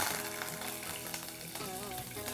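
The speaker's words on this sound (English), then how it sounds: "I'm going to add a handful of curry leaves" Cumin, dried red chillies and curry leaves sizzle loudly and steadily in hot oil in a pan, a continuous close crackling fry for a South Indian rasam, with no talking.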